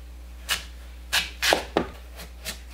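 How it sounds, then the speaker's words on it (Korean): A knife cuts peeled daikon radish into pickle-sized pieces on a board, six crisp separate chops spaced unevenly over a quiet background, close and clear with no talk. "무를 단무지 크기로 썰어줍니다."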